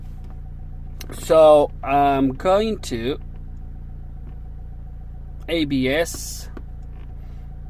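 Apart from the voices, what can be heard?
Nissan Qashqai J10 engine running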